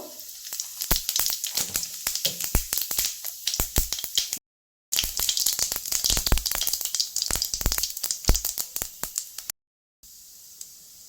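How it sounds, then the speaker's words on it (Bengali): Dried red chilies and cumin seeds sizzle in hot oil for a vegetable khichdi, a dense crackling hiss with sharp popping bursts, loud and close, broken by two brief silences. "শুকনো লঙ্কা সম্বর দিলাম এখন জিরে সম্বার দিব"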